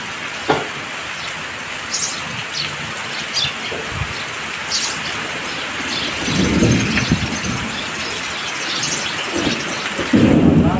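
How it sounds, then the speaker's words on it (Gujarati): Thunder rumbles through steady heavy rain, with a couple of deeper rolls building near the end; faint birds chirp in the background. "આવી ગયો વરસાદ ને ગાજ વીજ સાથે આવ્યો હોય"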